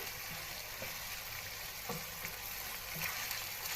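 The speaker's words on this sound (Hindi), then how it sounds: "कढ़ाई मसाला, हल्दी, नमक और मिर्च और 1 मिनट तक हम घी में करेंगे इस तरह फ्राई" Karahi masala, turmeric, salt and chilli frying in ghee for chicken karahi, a steady soft sizzle with a few faint stirring clinks, no voices.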